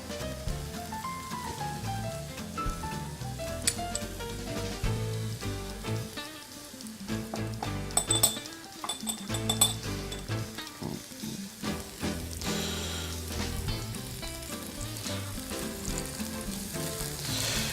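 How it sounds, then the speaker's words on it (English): Hamakua mushrooms toasting in a pan with extra virgin olive oil, giving a steady close sizzle and crackle throughout with occasional stirring and clinks, no voices over it. "So these are toasting up here, and now at this point I'm gonna add some of my extra virgin olive oil"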